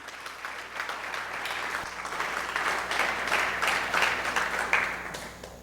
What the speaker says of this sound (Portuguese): Aplauda Ele se você quiser e se acha que é verdade.